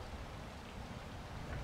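Steady, dense rain hissing and pattering in the video game Wild Hearts, a continuous broadband wash with no distinct drops, constant and moderately loud throughout.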